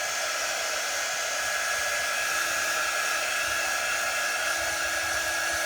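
A hair dryer blows a steady, even whir up close while drying watered-down paint, with no other sound.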